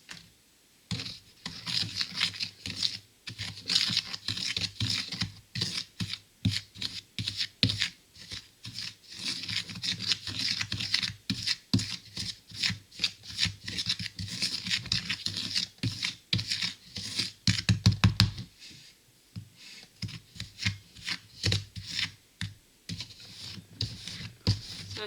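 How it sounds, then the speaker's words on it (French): Bath bomb powder being mixed by hand toward a damp-sand consistency, a continuous close gritty rubbing and crunching with rapid irregular scratchy strokes, briefly pausing near the end before resuming. "commencez à mélanger jusqu'à ce que la consistance soit celle d'un sable légèrement humide"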